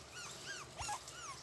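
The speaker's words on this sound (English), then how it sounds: "Now that's your puppy." A puppy whimpers in a few thin, high, wavering whines, soft and close, with brief gaps between cries.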